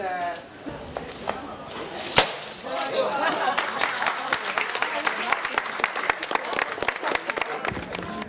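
A bottle smashes with one sharp crash against a newly unveiled shop-direction sign at a Saturday morning christening ceremony for Westmunster retailers, followed by sustained applause and murmuring from the gathered crowd.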